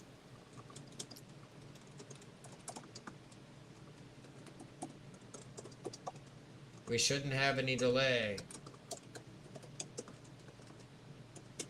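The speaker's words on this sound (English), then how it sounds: "But I can hear you typing like a madman." Rapid, light clicking of typing on a computer keyboard runs throughout at low level, with a short stretch of speech partway through.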